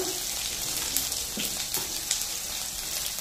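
Panch phoron seeds hit hot oil in a wok and crackle with a dense, continuous sizzle, broken by a few small pops and stirring scrapes.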